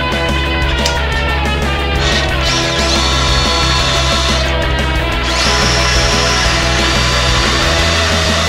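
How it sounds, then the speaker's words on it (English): A power drill bores holes for a mobility scooter axle, whining loudly and continuously up close, with small shifts in pitch as the bit cuts through. "get these holes drilled"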